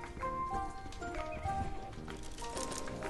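Horse hooves clip-clopping steadily while riding in the Horse Club Adventures video game, a quiet, even rhythm of hoofbeats with soft game music in the background and no talking.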